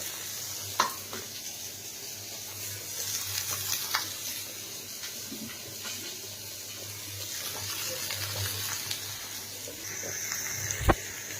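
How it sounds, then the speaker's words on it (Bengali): Potatoes, capsicum and onions are stirred in a frying pan, with a soft continuous sizzle and scattered scraping clicks of the spoon against the pan, plus a sharper knock near the end. "আর দেখো এখানে আলু ক্যাপসিকাম আর পেঁয়াজগুলোকে আমি বেশ ভালো করে মিক্স করে নিয়েছি"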